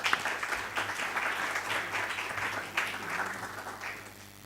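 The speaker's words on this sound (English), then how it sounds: "let's give them an applause" An audience at a cultural diplomacy institute event applauds to welcome its general director, a moderately faint, room-filling patter of many hands that holds steady for several seconds and slowly tapers, with no talking.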